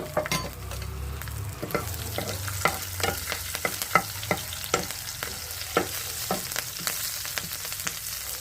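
Mustard seeds and chopped green chillies frying in hot oil give a steady close sizzle, broken by frequent sharp pops and crackles as the seeds burst.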